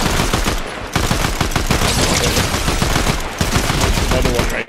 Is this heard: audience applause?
no